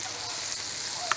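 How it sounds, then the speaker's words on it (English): Steady, bright sizzling of butter frying in a pan, a constant crackling hiss with no talking over it. "My butter is going in the pan, and it's going to sizzle a bit."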